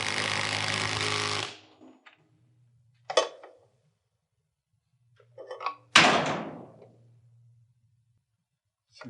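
A power drill whirs loudly into wood for over a second and stops while a garage door torsion spring bracket is installed, followed by scattered clunks and a short burst of drilling and rattling.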